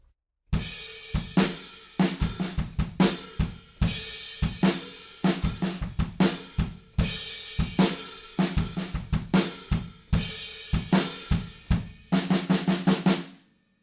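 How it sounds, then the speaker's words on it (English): Drum kit playing the chorus groove of a song, a loud, steady rock beat of kick and snare hits with open hi-hats and crash cymbals, ending in a quick fill, with no talking. "So note the open hi-hats in that chorus section and also the crash cymbals."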